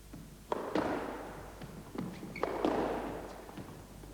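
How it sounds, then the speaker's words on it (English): Squash balls struck during pair practice on an indoor court, a series of sharp thwacks and bounces with a hollow echo, several hits spaced about a second or two apart. "John and I are going to demonstrate pair practice, where you both get the chance to practice your shots."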